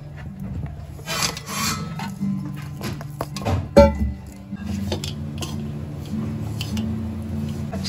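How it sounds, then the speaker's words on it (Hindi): Jaggery being added to a pan for barfi after the flame is turned off, heard as rough scraping and rubbing of a utensil against the pan with a sharper knock midway, continuous and close. "अब हम इसमें इतना गुड़ ऐड कर देते हैं"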